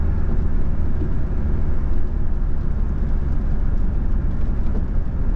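A car engine drones steadily from inside the cabin while accelerating during a driving lesson hill start, a loud low rumble with road noise and no voices.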